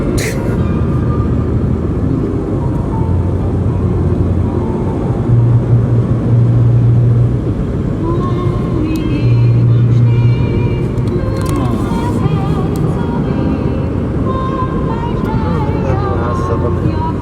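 Car cabin rumble on a road drive in Bavaria, Germany: a steady low engine and tire drone throughout, with people talking over it.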